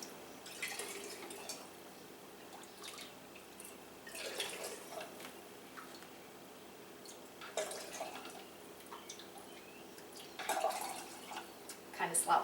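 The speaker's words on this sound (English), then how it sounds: "we're gonna ladle our hot stock into our hot jar and leave an inch of headspace" Hot chicken stock ladled into a hot canning jar, heard as a few separate bursts of liquid pouring and splashing with quiet pauses between them, close by and moderately soft, under faint talk.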